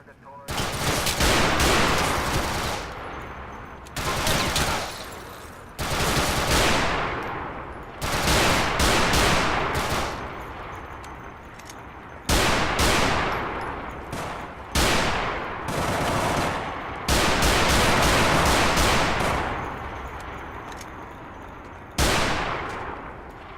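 Loud bursts of gunfire crackle in repeated volleys in a police car cartoon game, each burst sharp and dense then trailing off, separated by short quieter gaps.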